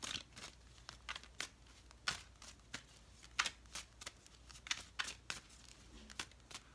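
Chakra oracle card deck being shuffled by hand, a steady run of crisp riffling snaps and soft card slaps repeating about every half second, close up with no voices.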